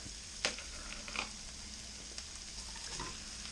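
Eggs sizzle in a frying pan for a quick fried rice. The frying hiss is steady but fairly quiet, with a few sharp clicks and scrapes of a utensil against the pan.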